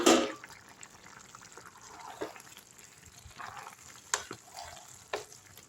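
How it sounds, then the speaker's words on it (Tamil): A pot of vegetable dum biryani is gently stirred, soft scrapes and a few sharp clinks of the spoon over a faint, low sizzle, with a louder scrape at the start. "லைட்டாக ஒரு கிண்டு கிண்டிடுங்க மூணு முறை கிண்டினா போதும்"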